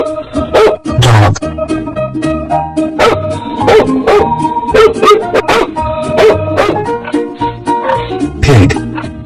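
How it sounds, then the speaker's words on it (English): A cartoon dog barks in a quick series of loud, yappy barks with short whimpering yips mixed in, close and alone. "Dog."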